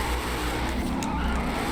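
Video game car drifting, a steady, loud engine drone with a continuous tire skid hiss running through the whole stretch without letup.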